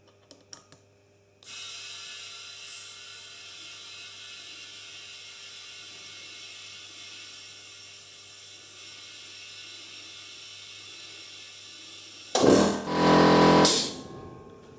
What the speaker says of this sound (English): Just waiting for the compressor to stop.